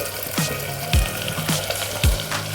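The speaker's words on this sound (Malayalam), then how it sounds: "എണ്ണ ചൂടായി അതിലോട്ട് നമുക്ക് ചെറിയുള്ളി ഇടാം" Shallots frying in hot coconut oil in a pan for beef curry, a steady close sizzle and bubbling with a few dull knocks from stirring, heard alone.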